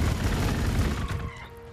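Rapid gunfire in the Warhammer 40,000 Gladius strategy game, a dense burst of overlapping shots and booms that cuts off and fades into a quieter tail.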